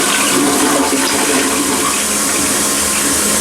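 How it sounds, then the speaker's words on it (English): An old toilet in an accessible Days Inn hotel bedroom in San Marcos, California, flushes with a loud, continuous rush of swirling water that stays close and steady throughout. "gonna flush this."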